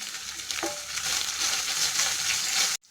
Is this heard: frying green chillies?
yes